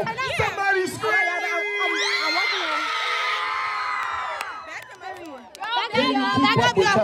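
A middle school crowd at a school event screams and cheers in a loud, sustained wave of shrieks and whoops, with a voice shouting just before and just after.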